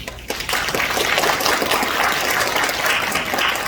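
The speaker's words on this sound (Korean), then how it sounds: "다시 한번 큰 박수 부탁드리도록 하겠습니다" An audience applauding at a People Power Party campaign announcement for the 22nd National Assembly election in Sejong, a loud, dense, sustained clapping that fills the whole stretch with no speech over it.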